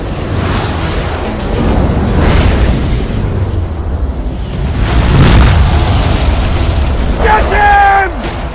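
An animated fire-and-wind magic spell erupts in a series of loud booming blasts and rushing roars, with shouting voices and a bright chiming effect near the end.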